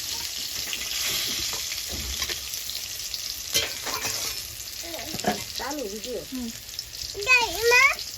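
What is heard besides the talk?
bitter gourd frying in oil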